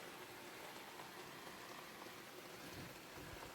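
Storm rain pours steadily onto an Alpkit Rig 7 tarp, a dense, continuous patter with no breaks, heard close by and alone.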